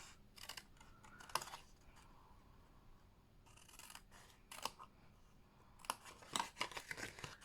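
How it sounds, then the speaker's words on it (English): Scissors snip paper into a small flap in a papercraft napkin-holder project, with irregular crisp close cuts in short bursts and quiet pauses between them. "I'm just going to cut that into a little flap"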